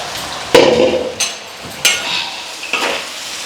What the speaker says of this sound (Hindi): तो इसलिए हम इसको इस तेल में डाल देंगे परवल को।